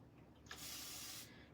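A spray bottle of plain water is sprayed onto a board eraser in a single steady hiss lasting about three-quarters of a second, close and clear, in a quiet room.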